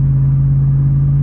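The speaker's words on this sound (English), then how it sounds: "When you get on the gas, it is still a little bit throaty and sounds like it is a V8." Steady low, throaty drone of a Lexus GX470 V8 exhaust fitted with an added resonator, heard from inside under acceleration, smooth and continuous with a strong low hum and no talking.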